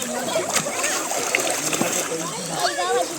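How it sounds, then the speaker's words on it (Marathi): Splashes and sloshing water from people jumping and swimming in a Konkan river, close and lively, with voices talking and children calling out throughout. "आता जम्प करतील बघा जम्प करतील बघा तो आता जम्प करतोय"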